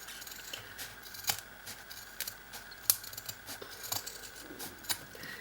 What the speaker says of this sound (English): it's as simple as grabbing your scissors and just trimming that seam down